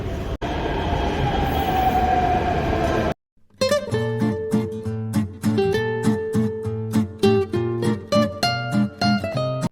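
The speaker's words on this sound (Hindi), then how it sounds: "मेट्रो आने वाली है 2 मिनट में" A Delhi metro train at a station: after a few seconds of broad rushing rumble and a brief silence, steady tonal whines and rhythmic clicking from the train fill the rest, loud and close with no voices.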